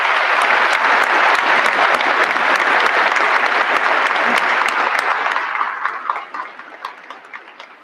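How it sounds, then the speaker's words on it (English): Loud, dense applause from a large audience at a commencement ceremony at The Citadel, sustained for several seconds before thinning out into scattered claps. "Let's give them a round of applause, please."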